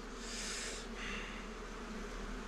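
Honey bees buzz at an open hive in Mafate, a steady close hum that swells and shifts in pitch over a couple of seconds with no voices.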